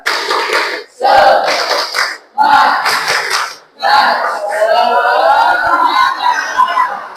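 A group of teachers at a training session performs a rhythmic clap-and-shout chant, several loud bursts of unison clapping and shouting separated by brief pauses, ending in a longer sustained crowd cheer.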